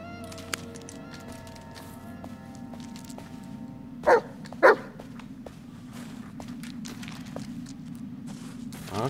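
Bullet the dog in Blair Witch gives two short, close barks a half second apart amid a steady low forest ambience, with light scattered footfall-like taps around them.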